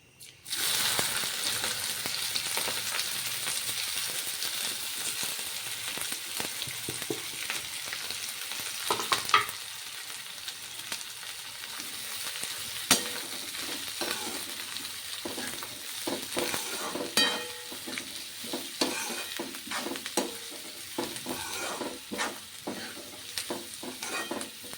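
Cabbage sizzles and crackles in hot oil tempered with mustard seeds, cumin and asafoetida, with steady spoon stirring and scraping against the pan throughout, close and fairly loud.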